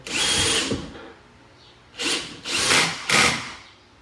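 A power drill whirs in four short bursts, tightening bolts on a bed stiffener installed in a new Toyota Tacoma, close and loud with quiet pauses between runs.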